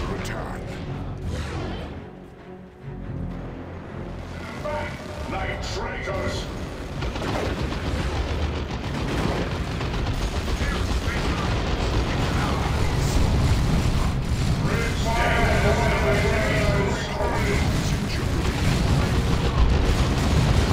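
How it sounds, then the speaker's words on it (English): Rocket Run explosions in the strategy game Dawn of War II: Retribution, with rumbling booms and gunfire layered into continuous dense battle noise that grows louder and busier toward the end. "Here's the Rocket Run as well."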